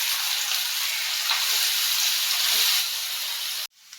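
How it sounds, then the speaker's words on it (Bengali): Finely chopped onion fries in hot refined oil with a loud, even hiss and sizzle. The sound holds steady close up for several seconds, then stops suddenly. "তেল গরম হয়ে গেলে দিয়ে দেব মিহি করে কেটে রাখা পেঁয়াজ।"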